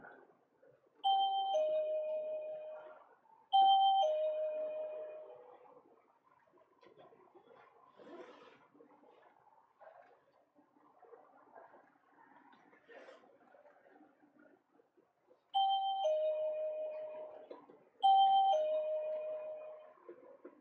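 A shop door bell chimes repeatedly as people go up and down the stairs, four clear two-tone dings in pairs at the start and end, with quiet room noise between and no speech.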